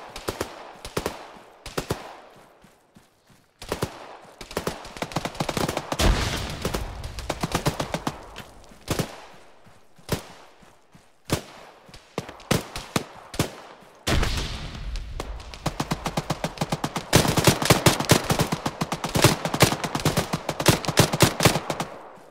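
Sustained bursts of automatic gunfire and single gunshots from an Arma 3 firefight, loud and close, coming in rapid volleys with short gaps and building to dense fire near the end, with no talk.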